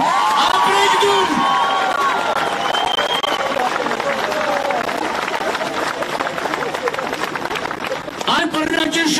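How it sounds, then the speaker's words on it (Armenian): A crowd applauds students at an outdoor rally, steady clapping and cheering filling the space throughout, while someone speaks over it through amplification. "խնդրում եմ ծափահարեք մեր ուսանողներին"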